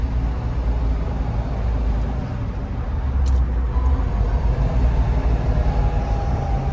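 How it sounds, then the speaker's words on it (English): A 1967 Shelby GT350 four-speed in Candyapple Red downshifting through the gears while driving, its engine a loud, close, continuous low rumble with road noise, no speech. "We'll downshift through the gears here."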